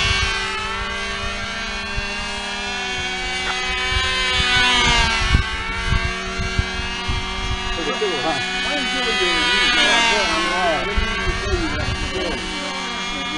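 A Cox model airplane engine on a Super Chipmunk whines overhead, its buzzing pitch rising and falling as it passes, with people talking over it.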